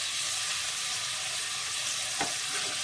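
Grated tomatoes cook in a pan with a steady, soft frying hiss and a single brief clink partway through, with no talking.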